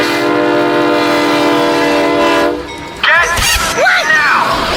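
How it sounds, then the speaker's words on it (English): A loud, sustained train horn blares for over two seconds with a steady harmonic tone, then cuts off as excited voices shout over the rumble of the passing train. "Oh my God, train!"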